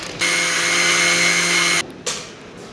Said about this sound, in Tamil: பொட்டுக்கடலை, நடக்கடலை, தேங்காய் மூணையும் வந்து அரைக்க போகிறோம்.